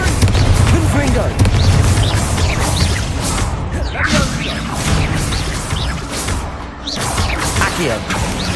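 Confringo fire-blast spells in Hogwarts Legacy go off as repeated booming blasts and crashes mixed with whooshing swishes, loud and busy throughout, with voices and combat noise layered underneath.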